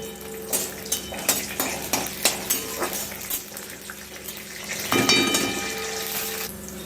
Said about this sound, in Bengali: আমি এবার এর মধ্যে এক মুঠো মতো কাজু কিশমিশ দিয়ে দিচ্ছি দিয়ে এটাকে একটু ভেজে নেব